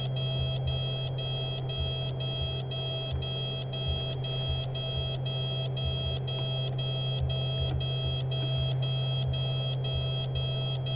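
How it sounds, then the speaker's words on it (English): A cockpit warning beeps repeatedly in a Carenado Piper PA-44 flight simulator during departure from Kelowna in snow, evenly spaced high tones pulsing steadily over a constant low engine drone. "What is beeping at me for?"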